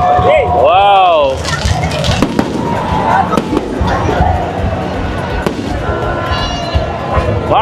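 New Year fireworks go off in a street celebration, giving sharp cracks and bangs scattered among whistling rising tones, with crowd noise and people talking close by.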